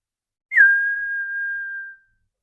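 A mimicry artist whistles to imitate the call of a small black bird: one sustained, clear whistle that starts with a quick upward flick and then holds a steady pitch for about one and a half seconds, alone against silence.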